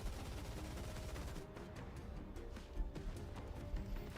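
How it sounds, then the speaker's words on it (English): Gunfire barrage in the video game Goddess of Victory: Nikke, as an Ark Ranger's transformed arm fires: a steady, dense rattle of rapid shots at low level, with a few heavier thumps toward the end. "She thrusts her arm forward and a barrage of gunfire erupts."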